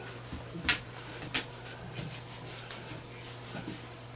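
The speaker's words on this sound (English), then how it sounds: "So I'll rub down the whole gun with patch lube, which is basically nothing but beeswax and a little bit of oil" A cleaning patch rubbed along a flintlock gun, a soft, close, continuous rubbing with a couple of brief sharper scuffs, faint and steady over a low hum, with no talk.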